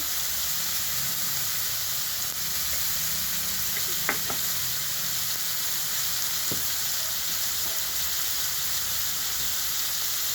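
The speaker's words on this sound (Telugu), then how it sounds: "ఇది ఒక 5 minutes ఫ్రై చేద్దామండి" Vegetables frying with turmeric and salt in a pan for korrala upma hiss and sizzle steadily throughout, with a few light knocks of a stirring utensil and no talk.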